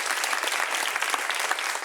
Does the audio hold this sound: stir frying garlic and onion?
no